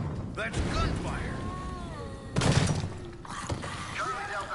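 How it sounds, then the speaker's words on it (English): Bursts of gunfire in the video game Deadlight: Director's Cut, sharp cracks that stand out among other game sounds and a voice commenting, with a louder burst midway through. "That's gunfire."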